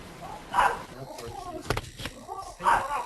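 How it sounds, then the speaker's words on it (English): A dog barks a few times in the background during an online webinar, with short yips and barks under overlapping speech from people talking. "now we got a dog barking"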